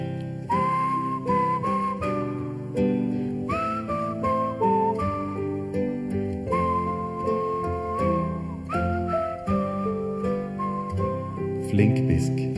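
A tonal whistled melody in a Norwegian children's audio story, bright sustained notes over a fuller musical accompaniment that plays steadily throughout, with no talk.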